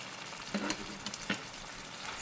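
Ground beef and freshly added pepper, celery and tomato sizzle gently in a pan, a low steady hiss broken by a few short crackles and clinks.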